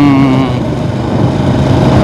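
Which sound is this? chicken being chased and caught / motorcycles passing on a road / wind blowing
motorcycles passing on a road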